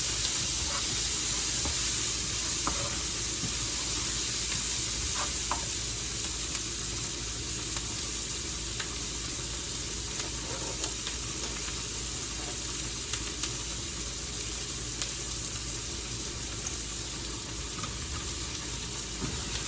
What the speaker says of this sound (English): Saute my onions.